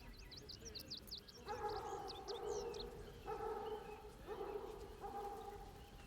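Dogs in the video game Baldur's Gate III yip and whimper in short, excited bursts over a steady ambient bed, with several longer barking or howling tones in the middle of the stretch.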